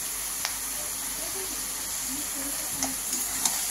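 Ginger paste, coriander-cumin powder, salt and sugar sizzle steadily in a pan for Bengali dudh lau, a soft continuous frying hiss with occasional faint taps of stirring.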